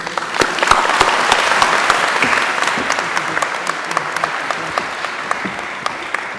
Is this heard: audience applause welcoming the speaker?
yes